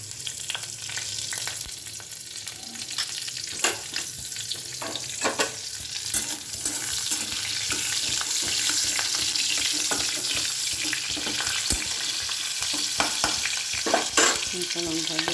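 Green chilies sputter in hot oil left in the pan, with a continuous close crackling sizzle that grows denser and steadier, broken by sharp pops.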